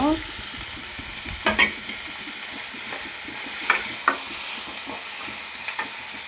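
Cauliflower fry is stirred in a hot pan with green chilies and ginger, giving a steady, close sizzle with intermittent scraping clinks of a spoon against the pan.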